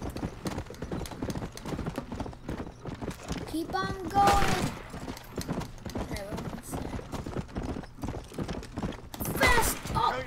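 Rhythmic clip-clop of galloping hooves from a horse in Red Dead runs throughout with game-like sound effects, while a voice speaks excitedly over it.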